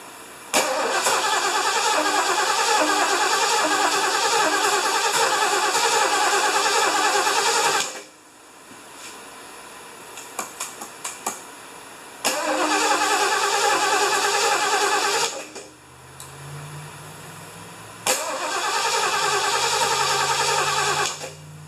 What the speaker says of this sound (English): I didn't think it'd be this hard to start